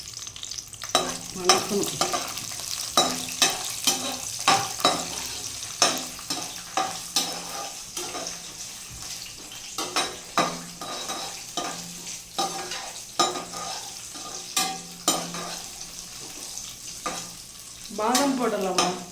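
Raisins and cashews sizzle in hot ghee while being stirred, with steady frying hiss and many irregular scraping clicks of a spoon against the pan, close and continuous.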